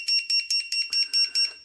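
A drone beeper buzzer sounds after a switch is pressed, giving seven short, loud, evenly spaced shrill beeps close by, with no talking.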